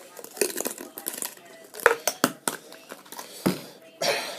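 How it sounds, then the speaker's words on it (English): A spoon scrapes and clinks around a bowl as a garlic-seasoned dipping sauce for chimichangas is mixed, giving a close, irregular run of short knocks and scrapes. A few sharper taps stand out near the end. "So you mix that up, and just to be on the safe side, a little bit more garlic powder."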